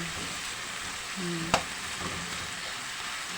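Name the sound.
tomatoes sautéing in a pan and being mashed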